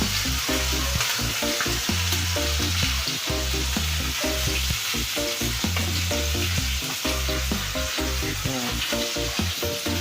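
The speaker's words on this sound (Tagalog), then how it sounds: "Guys, prito tayo" Loud, steady sizzling of food frying in hot oil, a constant crackling hiss with rhythmic low thumps underneath, no voices.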